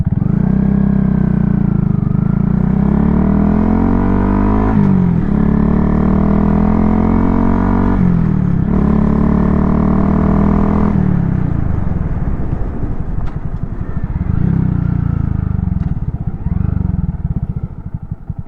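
A motorcycle pulls away and comes to a controlled stop in a riding practice exercise: loud close engine climbing in pitch through several gear changes, easing off, then settling into a lumpy idle.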